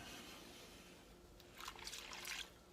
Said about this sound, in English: you wanna get all the bark wet without adding so much water that things get diluted